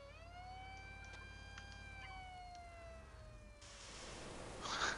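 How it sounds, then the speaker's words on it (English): Wailing fire engine siren from the video game Prison Architect, a single steady rising and falling tone held throughout, with a burst of noisier game sound near the end. "Fire engine."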